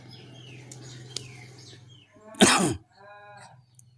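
A young child imitates a crow's caw with one short, loud, harsh vocal burst near the middle, after quieter background sounds and faint household noise.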